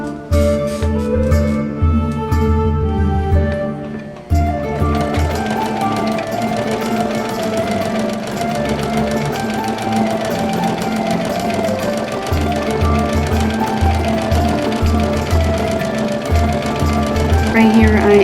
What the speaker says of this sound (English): Right here I am sewing the little thin strips that are at least 2 inches